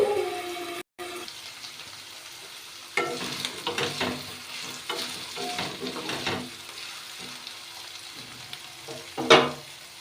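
Ridge gourd and potato frying in a pan with curry leaves, a close sizzle broken by bursts of stirring and scraping, ending in a sharp louder clatter.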